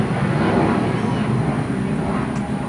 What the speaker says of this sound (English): We live next to an airfield, so that's one thing that we're definitely not going to miss is the planes coming over all the time